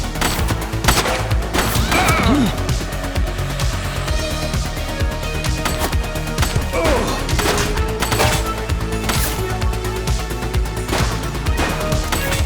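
Gunfire from The Precinct video game, an exchange of shots in a police shootout against the August Gang, loud and dense over a busy game soundscape with music and effects throughout, sharp bursts spread across the scene.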